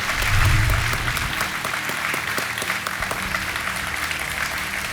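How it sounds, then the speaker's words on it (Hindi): A studio audience on the KBC quiz show claps steadily to welcome a guest. The applause is dense and sustained, with no voices over it. "तालियों के साथ आपका स्वागत।"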